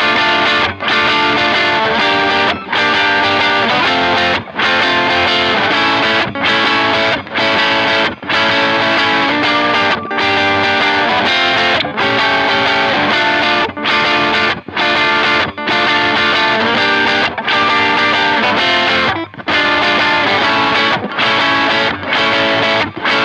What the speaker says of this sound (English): it's all the gain on the pedal itself is ramped all the way up.